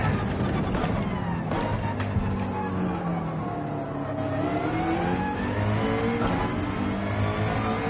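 Race car engine in Gran Turismo 7 revving hard and continuously under acceleration, a loud steady roar with rising and falling pitch as gears climb, heard alone without talk.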